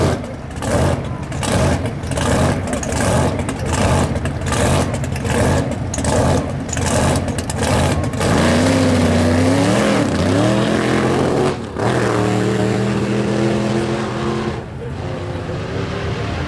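A supercharged big block drag car at a no-prep drag racing event accelerates hard through its gears, a loud, pulsing engine roar with rising pitch sweeps and gear changes, followed by people talking over the fading engine.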